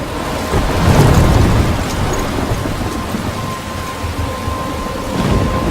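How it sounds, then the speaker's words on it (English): Thunderstorm in the video game Life Is Strange, with steady heavy rain and a low, rolling rumble of thunder swelling near the start, loud and continuous throughout. "I'm trapped in a storm?"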